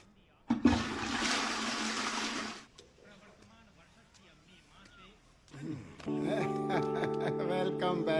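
A toilet flushes with a loud, close rushing burst of water lasting about two seconds, then fades into quieter room sound before voices and other sounds pick up.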